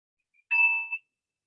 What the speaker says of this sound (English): the bell I used today was a mindfulness bell